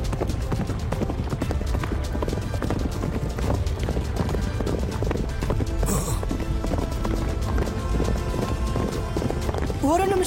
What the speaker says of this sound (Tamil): இந்த குதிரைங்க எங்க இருந்து வந்துச்சு?